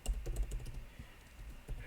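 Rapid clicking of keys on a computer keyboard as commands are typed, a quick irregular patter of close taps with a few brief pauses.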